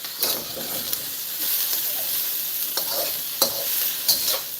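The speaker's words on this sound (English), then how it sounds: "so that broccoli is going to sizzle up in there as well." Steady sizzling of broccoli and onion stir-frying in a hot pan for Pad Thai, with a few sharper crackles and stirring scrapes rising above the continuous hiss.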